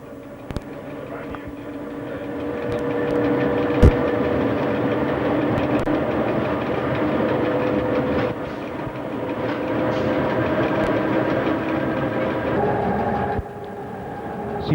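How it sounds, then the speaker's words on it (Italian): A 1990s Ferrovie dello Stato ES 646 electric train on the Udine–Trieste line picks up speed toward 140 km/h. Inside, a loud continuous rumble and drone carries wheel clatter and a few sharp clicks, and the tone shifts briefly near the end. "il treno ora può riprendere la velocità di 140 km/h."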